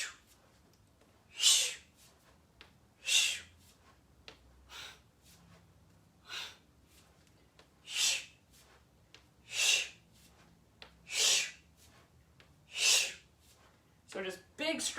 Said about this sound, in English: So just big, strong exhales.